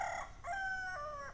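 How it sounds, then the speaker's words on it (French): A rooster crows nearby, one drawn-out cock-a-doodle-doo with a rising then held tone, loud and clear against a quiet background. "Avec les coqs qui chantent à tour de rôle là."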